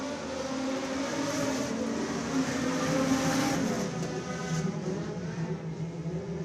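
Sport compact race cars running four wide on the back stretch of Screven Motor Speedway, a steady loud engine drone with a rising and falling roar as the pack passes, no talk over it.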